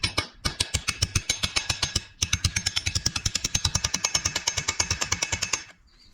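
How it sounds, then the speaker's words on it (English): Rapid metallic hammer taps seating a seal into a Willys Jeep pickup transmission/transfer case housing, dozens of sharp strikes in quick succession in a steady rhythm, a brief pause near the start, then stopping abruptly. "keep tapping until you feel it bottom out and you hear a noise change on your"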